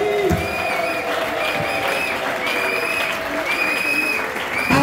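A congregation at a morning prayer service breaks into loud, sustained applause and acclaim, with dense clapping and cheering voices running throughout at close range.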